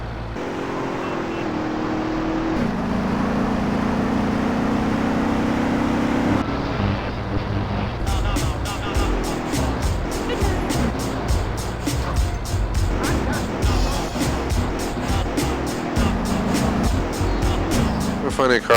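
A car engine drones on while someone drives around in the video game Grand Theft Auto: San Andreas. The steady engine hum rises and falls with the throttle, loud and close throughout, with game sounds layered on top.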